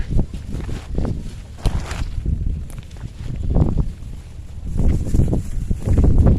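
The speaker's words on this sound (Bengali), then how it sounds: "বাতাস উঠেছে অনেক" Strong wind on a cloudy day buffets the microphone in loud, uneven gusts while a kite is flown, with faint movement sounds underneath.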